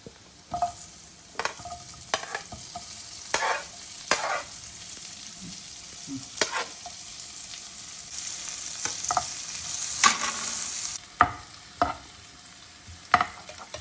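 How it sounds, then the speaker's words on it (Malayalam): Chopped onions sautéing in butter and garlic for a broccoli dish, a soft continuous sizzle punctuated by repeated scraping and tapping of a spatula stirring the pan, close and fairly quiet. "ആ സമയത്ത് നമുക്ക് സവാള അരിഞ്ഞു വെച്ചിരിക്കുന്നതും കൂടി അങ്ങോട്ട് ഇട്ട് കൊടുക്കാം"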